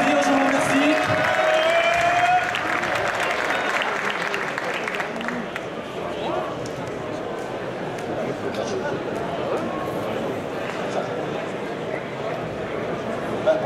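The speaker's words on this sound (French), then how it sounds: "Je vous prie de l'applaudir, je vous remercie." A crowd at the Stunfest 2015 Tekken Tag Tournament 2 final applauds and cheers in a large hall. Busy crowd noise continues under loud voices, with a strong tonal sound early on and sustained murmuring clapping afterward.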